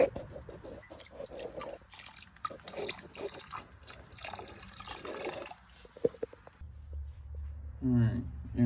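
Old fuel drains from a Superjet personal watercraft tank into an oil bucket, a faint steady trickle with scattered drips and small splashes, a low gurgle coming in near the end.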